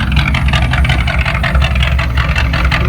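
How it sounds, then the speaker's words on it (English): A 1981 Chevrolet C3 Corvette engine idles steadily after coming out of storage, a loud, continuous low rumble with a dense, even throb and no talking over it. "So I'll just let it idle for a bit, get the engine up to temperature."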